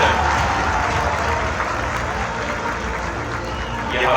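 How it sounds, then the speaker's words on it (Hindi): Crowd applauding fire service personnel after a disaster-response demonstration, a loud, continuous wash of clapping that holds steady and swells slightly at the end. "एक बार पुनः जोरदार तालियों से इन फायर कर्मियों का"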